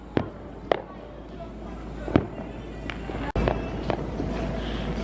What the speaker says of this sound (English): All the fireworks, right?